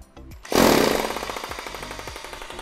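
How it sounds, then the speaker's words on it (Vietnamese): On its strong hammer setting, a German-made 100V electric hammer drill imported via Japan kicks in with a heavy burst, then keeps up a loud, close, rapid rattling hammer action that gradually eases off. "Nhân khoan búa mạnh nè."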